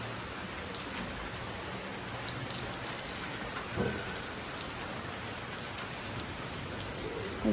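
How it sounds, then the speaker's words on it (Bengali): Steady evening rain pours outside a home, a dense even hiss of drops on surfaces with faint thunder rumbling in the distance and no speech. "ঠান্ডা ঠান্ডা থাকে দেখো বৃষ্টি হচ্ছে"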